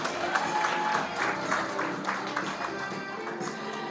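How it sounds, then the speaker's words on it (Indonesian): Applause from a seminar audience for three people: dense, steady clapping from many hands that stays fairly even across the whole stretch and fades slightly toward the end. "tepuk tangan buat mereka bertiga"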